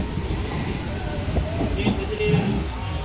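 Passenger train from Howrah on the Kalna–Katwa line, heard from inside as a steady low rumble with faint rail clatter, while a voice speaks over it.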